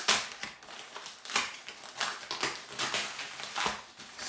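Cardboard and plastic packaging of an AUKEY 87-key mechanical gaming keyboard being torn and opened, with close, repeated crinkling and crunching rustles and scrapes in an irregular rhythm, no talk.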